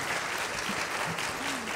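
Applause for a guest lecturer from a hospital lecture-hall audience, a dense, even wash of many hands clapping at steady volume with a faint voice briefly audible underneath.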